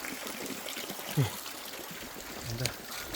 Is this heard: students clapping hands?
no